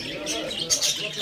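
Small birds chirp and tweet in a pet supply shop, with short, scattered, fairly soft calls over a low murmur of room sound.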